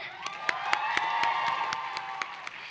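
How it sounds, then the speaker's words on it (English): A crowd at a pharmacy school commencement ceremony gives a round of applause, with scattered sharp claps and cheering from the audience under a sustained tonal background. "Let's give us all a round of applause again"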